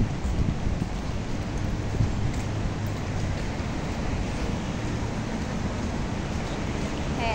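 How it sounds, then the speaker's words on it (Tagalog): Gusty wind outdoors buffeting the microphone, a constant loud low rumble and hiss that barely varies throughout. "Mahangin sa labas."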